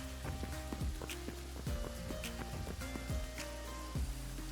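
Rain falls steadily in the Hytale game world with a constant patter, dotted with short clicks and tonal game sounds layered on top.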